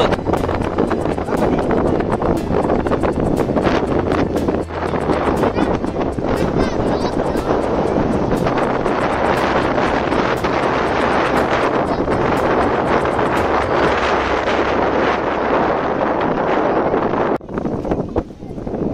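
Strong wind roars into the microphone at a foggy, rainy hilltop lookout with ladders nearby, a long unbroken blustery rumble that stays loud throughout and dips briefly near the end.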